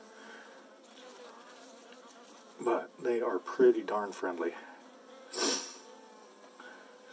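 Saskatraz honey bees fly around near the hive during a package install, their faint buzzing droning in the background while a person speaks calmly close by.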